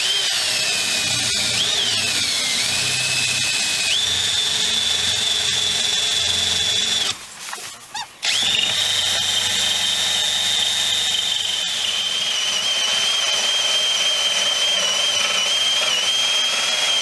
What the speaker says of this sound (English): I'm going to drill another one on that side